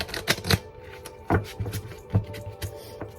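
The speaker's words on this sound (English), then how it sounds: "let's do, I think, one more shuffle here" A series of crisp riffling and snapping bursts as a deck of cards is shuffled, in quick uneven clusters.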